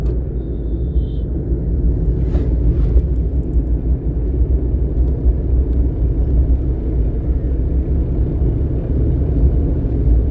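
A car cruising in fourth gear at around 50 during a driving lesson, heard from inside as a steady, loud low engine and road rumble that continues unbroken with no talk.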